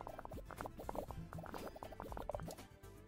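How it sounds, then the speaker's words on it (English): Water cooler gurgling in the Game Dev Tycoon video game: quiet bubbling glugs and plops in an irregular, rapid patter, faint and without talk. "I hit the water cooler."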